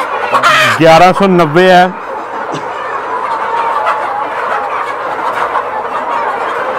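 Lohmann Brown hens on a poultry farm squawk and cluck loudly and close by for about two seconds, then a softer flock murmur continues while someone speaks briefly.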